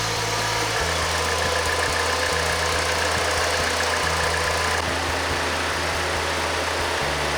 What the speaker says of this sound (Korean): 엔진 소리가 정말 이상해요.